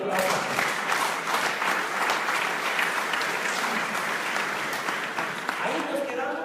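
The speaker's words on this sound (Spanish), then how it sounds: "Un aplauso." A church congregation claps steadily, a dense, sustained wash of applause filling the room. A few voices murmur beneath the clapping, which stays even in strength throughout.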